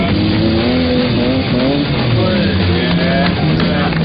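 A Peugeot 306 3.0 V6 pulls away hard from a standing start, its engine revving loud and rising through the gears with a brief tire squeal.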